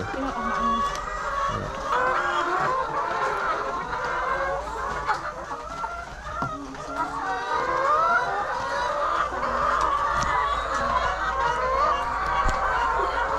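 Chickens in a school coop cluck and chatter continuously, several birds close by with busy overlapping calls, while a person talks faintly in the background.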